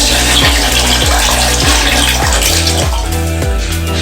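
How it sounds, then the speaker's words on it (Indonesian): Tap water runs loudly and steadily for boiling egg noodles, a close, rushing gush filling a pot with a rhythmic pulsing undertone; no talking. "kita buka dulu si airnya"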